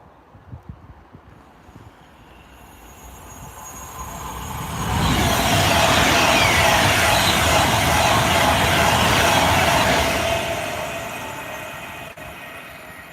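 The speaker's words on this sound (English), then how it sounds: "here comes another Pendolino" A Pendolino train passing by, building from a distant rumble to a loud, broad roar for about five seconds, then fading away, with wind noise on the microphone throughout.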